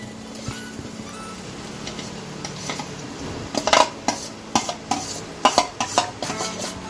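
Boiled potatoes being stirred into a pav bhaji mixture in a pot, soft squishy mixing at first, then a run of sharper spoon-on-pan knocks and scrapes near the end, no voices.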